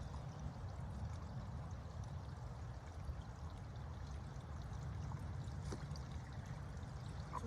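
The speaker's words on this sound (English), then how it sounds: "Really beautiful here when this water flows" Steady, low rushing water flowing continuously in a creek, soft and even, with no voices.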